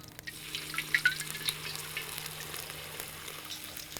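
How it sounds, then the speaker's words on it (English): Hot oil poured out of a wok through a strainer while cooking Kung Pao beef, a wet, splashing pour with light sizzling that starts strong and then settles into a steady trickle. "I'm gonna pass this oil right through"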